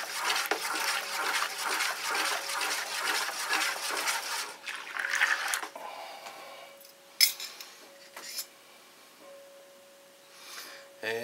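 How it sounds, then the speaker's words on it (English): Elderberry wine must being stirred in a 5-gallon fermenter, a steady sloshing, clinking swirl of liquid for several seconds, then a few scattered knocks and splashes as the stirring slows and stops. "Now we're going to give this a stir"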